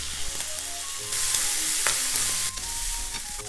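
Oyster sauce, soy sauce and sugar sizzling in a hot pan while being stirred, with a steady hiss of frying, swelling bursts of sizzle and scraping of the utensil against the pan, close and loud without talk.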